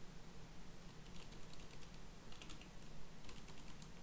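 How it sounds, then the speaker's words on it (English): A password typed on a computer keyboard in short bursts of light key clicks separated by pauses, quiet and close, with no talking. "I'm having to type it in 3 times here because I think I'm typing my password in wrong."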